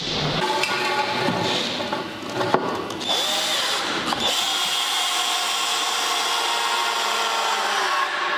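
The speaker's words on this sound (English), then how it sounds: "A corded drill and some masonry drill bits are required." A corded power drill fitted with a masonry bit whines in close, loud bursts, with short pauses and a brief change in pitch between runs.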